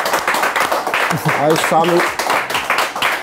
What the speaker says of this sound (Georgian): 3 კაცი უკრავს ტაშს